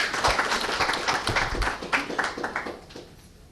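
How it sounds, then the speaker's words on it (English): Audience applause for a speaker at a technical conference panel, a dense wash of many hands clapping at moderate loudness that thins toward the end. "Can we have a round of applause for Soumya?"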